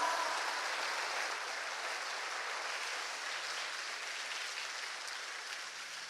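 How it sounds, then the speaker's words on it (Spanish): A church congregation applauds during a sermon, a faint, steady wash of distant clapping that holds evenly and slowly thins toward the end. "Dale un aplauso al Señor."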